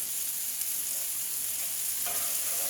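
Vegetables sizzle steadily in a hot pan for a breakfast with sausage gravy, a constant close frying hiss with a brief scrape of stirring near the end.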